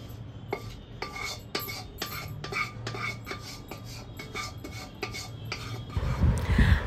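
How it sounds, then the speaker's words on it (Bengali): Katla fish kalia is tipped from a pan into a bowl, with a steady run of sharp metallic spoon-on-pan clinks and scrapes and a louder clatter at the end. No one speaks. "এবার আমার এই তরকারিটা বাটির মধ্যে আমি ঢেলে নিলাম।"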